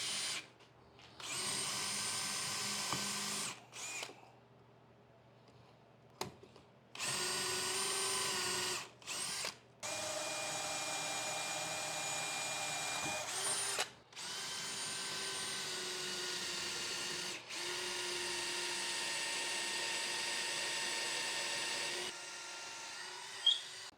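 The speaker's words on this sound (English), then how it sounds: "You just basically drill a hole." A power drill bores a hole into a wooden bench top in several bursts of steady whining, each lasting a few seconds, separated by brief pauses, with the pitch holding constant during each run.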